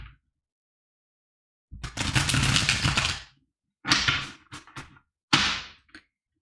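Crisp rapid riffling bursts of tarot-style reading cards being shuffled, three separate flurries with silent gaps between, close and fairly loud.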